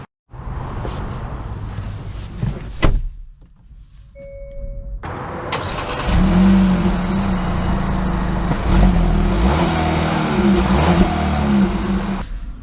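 A 2024 Hyundai Kona N-Line drives off. A low engine hum and a brief mechanical clunk lead into a louder, steady rising engine note as the car accelerates, heard close from inside the cabin.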